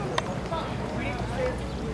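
Galloping racehorse hooves, a quick steady drumming under continuous excited race-call voice throughout.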